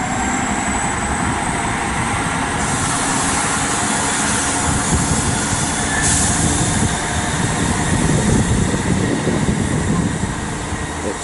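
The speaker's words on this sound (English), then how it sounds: "departing now is going to be 158952 with the service to Cardiff Central from Portsmouth Harbour" Class 158 diesel multiple unit 158952 pulls out of Patchway station on the South Wales Main Line in the late evening, a loud, continuous engine drone and rolling rumble with a faint high whine, no talk.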